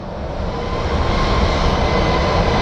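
An American Airlines airliner in Canyon Blue livery lining up for departure at Phoenix Sky Harbor International Airport, its jet engines producing a steady, loud, broadband roar that holds evenly with no talking.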